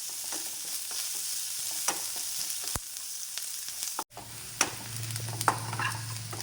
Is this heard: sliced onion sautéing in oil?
yes